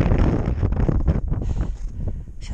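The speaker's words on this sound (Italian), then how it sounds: "un po' di vento" Strong wind buffets the microphone on a mountain during ski touring, a loud continuous roar with gusty surges and no voices.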